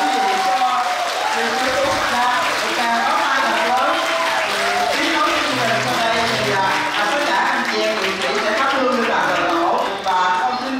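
Audience applause at a cải lương theatre event, a sustained wash of clapping under amplified speech and music, loud and steady for the whole stretch.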